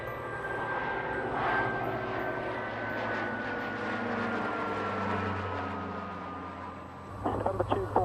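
An Airbus A350 XWB airliner in flight gives a steady, broad engine drone with a slowly falling whine, until a few sharp clicks and knocks break in near the end.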